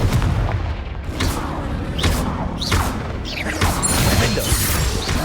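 In the Hogwarts Legacy video game, Confringo fire curse spells are cast in a loud series of explosive bursts and whooshing crashes, about one every second.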